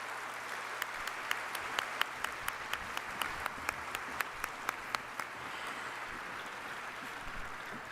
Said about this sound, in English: Please give another big round of applause for the beautiful performance delivered by Dot Mill.